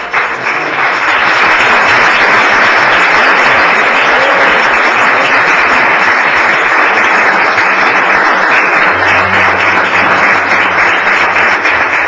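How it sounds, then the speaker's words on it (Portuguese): A church congregation breaks into loud, sustained applause, a thick continuous roar of clapping filling the whole stretch, with a faint low hum near the end. "Quem recebe, aplaude o Senhor"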